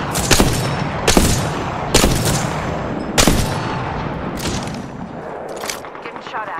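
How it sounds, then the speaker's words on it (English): Repeated bursts of gunfire in the video game Apex Legends, several sharp loud volleys spaced about a second apart over a constant busy background of game noise. "Getting shot at."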